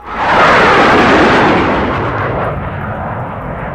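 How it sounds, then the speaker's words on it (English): Loud, rumbling explosions from an airstrike in the Vietnam War video game Vietnam '65, a broad roaring blast that swells early and then slowly dies away, with no voices over it. "we're gonna airstrike their little butts down here"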